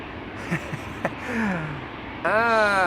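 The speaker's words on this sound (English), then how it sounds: "Airplane in the background getting pushed back, and airplanes coming this way" Airliners taxi and are pushed back at Schiphol Airport, a steady jet engine whine filling the clip with rising and falling tones and a louder harmonic engine hum near the end.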